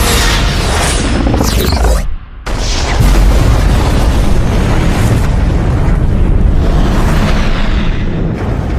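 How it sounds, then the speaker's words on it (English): Tricobalt torpedo explosions in a space battle, a loud continuous roar of booming detonations with sweeping whooshes, briefly cutting out before crashing back in and rumbling on at full intensity. "Massive secondary explosions."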